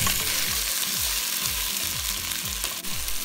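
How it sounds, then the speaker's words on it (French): Chunks of daikon, taro and yam are stirred in hot sesame oil, a dense continuous sizzle overlaid with regular low scraping strokes as the vegetables are turned, close and steady throughout. "on remue le tout de façon à commencer à cuire les ingrédients et de façon à recouvrir nos ingrédients d'huile de sésame"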